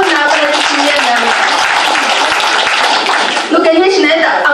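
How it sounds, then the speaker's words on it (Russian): A hall audience at a Fohow corporation event in Krasnodar breaks into loud, sustained applause and clapping that fills the whole stretch, with voices and some music-like tones mixed underneath. "Давайте ваши полные аплодисменты."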